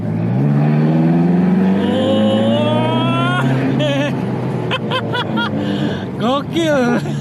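A sports car engine revs hard with a loud rising howl that climbs and then settles into a steady roar, while people chat excitedly inside the cabin over the engine noise.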